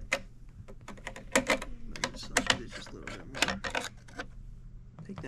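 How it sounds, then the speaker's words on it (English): A screwdriver turns the screw on the top M.2 slot of a PC motherboard, producing a series of small close ratcheting clicks and ticks in uneven clusters, fairly quiet against a faint background hum. "Let's just unscrew this top M.2 slot."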